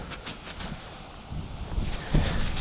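Steady wind rushes and buffets the microphone with a low, rumbling roar that swells louder toward the end.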